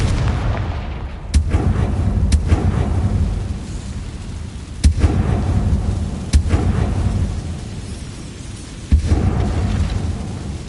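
Explosive Confringo spell blasts in the Hogwarts Legacy game, several sharp booming cracks at irregular intervals over a constant loud rumbling background, with no talk.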